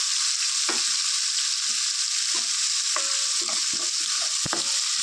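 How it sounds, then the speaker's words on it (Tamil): Chopped onions are stirred and sautéed in a pan over medium heat, a loud, steady sizzle broken by scraping and clinking stirs at close range, with no talk. "வெங்காயத்தையும் ஆட் பண்ணி இது எல்லாத்தையும் அப்படியே கலந்துருவோம்"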